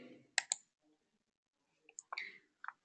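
Mouse clicks on a gear icon in software, a couple of sharp close clicks near the start and a few more light taps later, faint and dry against near silence.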